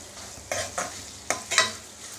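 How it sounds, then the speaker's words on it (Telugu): Curry leaves, about two sprigs, dropped into hot oil in a pan while cooking jeera rice, giving four short sizzling crackles in separate bursts over a quiet kitchen background. "కొంచెం కరివేపాకు వేసుకుంటా ఒక రెండు రెమ్మల వరకు కరేపాకు వేసాను"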